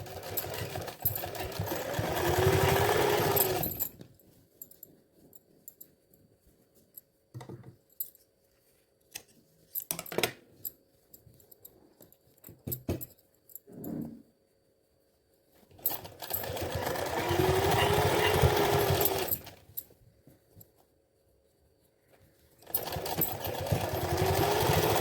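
An electric sewing machine stitches a trim strip onto a pant hem in bursts of rapid mechanical whirring, with quiet pauses and small handling clicks between the runs.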